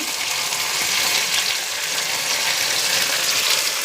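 A steady, close sizzle of onions frying in hot oil until reddish, an even crackling hiss with no pauses.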